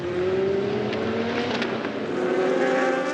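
A prototype race car at Portimão during a four-hour endurance race screams past at high revs, a steady loud engine drone with a small shift in pitch as it rides over the curb.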